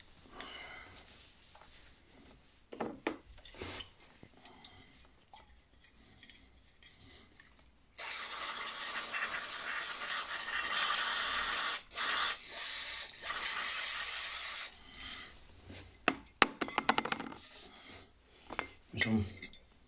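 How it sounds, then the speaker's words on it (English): A motorcycle brake caliper's pistons on a Suzuki GSX-S1000 being cleaned with brake cleaner, with scattered clicks and rubbing, then a loud sustained hissing spray burst in the middle before more close handling noises. "Clean your pistons."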